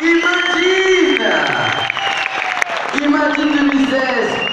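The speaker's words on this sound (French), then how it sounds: "Je vais vous demander d'applaudir bien, bien fort" Loud applause and cheering from a large crowd, with whoops and a voice shouting over the sustained clapping.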